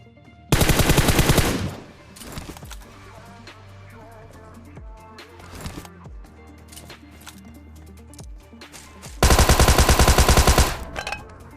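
Close, loud M416 rifle bursts in the PUBG video game, two long rapid automatic strings at the start and near the end, with quieter game ambience and distant shots in between.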